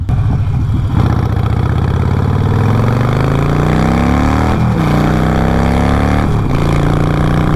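A Harley-Davidson motorcycle engine rumbles loudly while riding, its deep harmonic drone rising steadily in pitch as it accelerates, with short dips at shifts.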